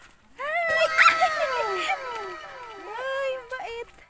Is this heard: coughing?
no